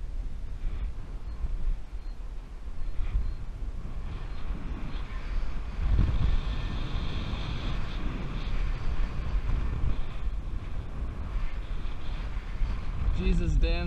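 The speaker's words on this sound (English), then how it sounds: "It's hella windy." Strong wind roars across a 200-foot radio tower during a climb, a constant loud low rumble of gusts battering the microphone, with voices partly heard beneath it.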